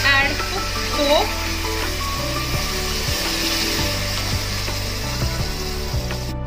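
Pork pieces stirred in a pan with ginger garlic paste and soya sauce, a steady broadband sizzle with low scraping and clunks of the spoon against the pan, close and fairly loud.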